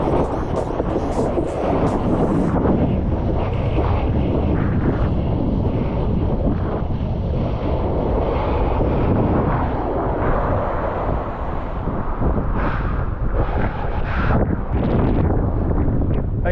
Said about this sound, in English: Just as we get to the finish, the wind is dying.